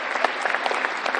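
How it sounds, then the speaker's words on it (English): A live show audience aboard the cruise ship Oasis of the Seas breaks into loud, dense applause, a continuous close wash of many hands clapping with no voices over it. "give her a round of applause"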